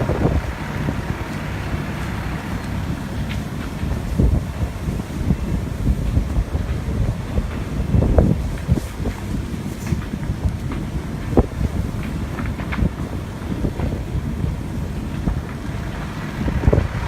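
Strong gusting wind roars past the microphone near a burning wildfire close to Cambridge Road in Goleta, a continuous heavy buffeting rumble with crackling bursts, loud and steady, with no talking.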